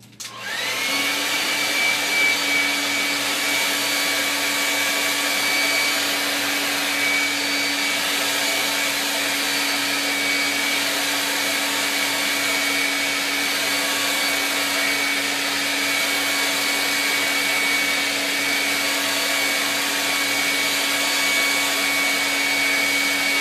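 A blow dryer runs steadily at close range for the whole stretch, a loud continuous whoosh with a sustained motor whine, used to dry paint on a 16x20 canvas.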